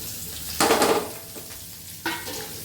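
Two chopped onions hit hot oil in a pan with a sudden loud sizzle, then a steady fry under occasional stirring clinks, with a second burst of sizzling near the end.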